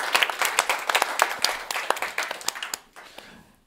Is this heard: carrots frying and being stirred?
no